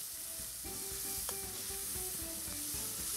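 Masala with tamarind paste and a broken bay leaf frying in a pan, a steady close hiss of sizzling oil broken by regular soft scrapes of stirring.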